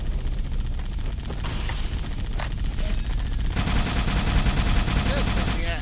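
Rapid gunfire from the Halo video game rattles in dense automatic bursts, growing louder and fuller partway through, with a player's voice occasionally cutting in over the shooting.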